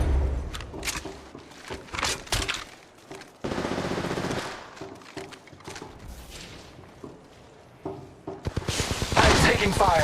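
Gunfire in Apex Legends Mobile, with energy weapons firing in bursts of rapid automatic shots, loud and close. The shots are broken by pauses, reload clicks and short announcer voice lines.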